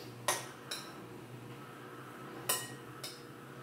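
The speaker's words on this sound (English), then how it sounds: "Nothing like throwing a spoon in the house" A spoon tossed into a home kitchen, two pairs of bright metallic clinks about two seconds apart, faint against quiet room tone.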